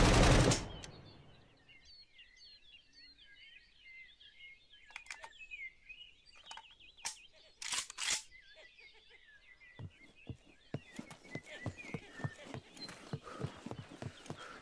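Rifle fire in the open-world survival prison game SCUM: a few sharp, separate shots, then a quick run of regular consecutive shots, over outdoor ambience with chirping birdsong.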